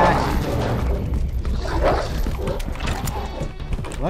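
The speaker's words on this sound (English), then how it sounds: "There's so many dogs." Several dogs bark and yip in Resident Evil 2, with sharp repeated barks, whimpers and thuds over a loud, busy game background.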